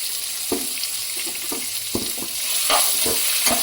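Chopped onions frying in a pan give a constant sizzle, broken by regular scraping taps of a spatula stirring them, close by with no talking.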